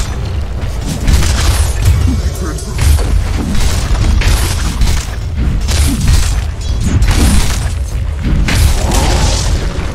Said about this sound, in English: Dire's middle tower has fallen.